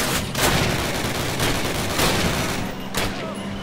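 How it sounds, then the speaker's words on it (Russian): Rapid gunfire in Call of Duty 4 (2007): a dense string of loud shots with sharper bursts roughly every half second to a second, nearly continuous over several seconds, with faint voices mixed in. "Стоп, она стреляет."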